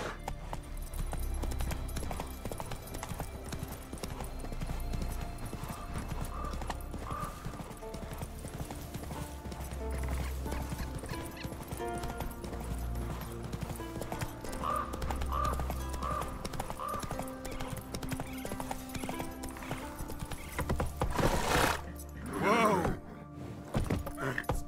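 Horse galloping in The Witcher 3 video game, rhythmic clip-clop hoofbeats over game music and ambience, with a brief louder thump near the end.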